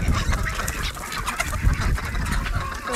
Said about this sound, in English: There's the ducks.